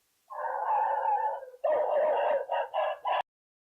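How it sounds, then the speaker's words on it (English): Dog barking and howling sounds playing as a browser alert on a fake PayPal look-alike website, starting with a long howl, then a long bark-like yowl followed by three short barks, loud and close with nothing else around them. "the browser immediately shows alert messages with dog photos and sounds"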